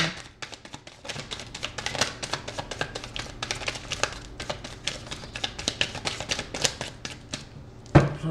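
Tarot cards shuffled by hand in a long run of dense, crisp riffling and tapping bursts, close and steady, ending with a sharper knock.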